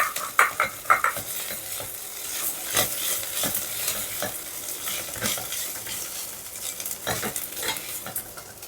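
Cabbage and chana dal curry fries in a pan, with a hissing sizzle under irregular scraping stirs and a few clinks of a utensil against the pan, close by.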